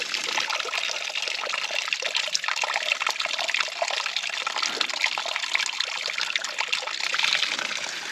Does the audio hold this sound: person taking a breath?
no